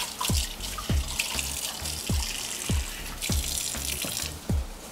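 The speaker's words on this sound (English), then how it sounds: "And then I'm going to add in a little bit of water." Water poured into a pan of pulled meat with soy sauce, heard as a series of short splashing pours at a steady rhythm against a quiet kitchen background.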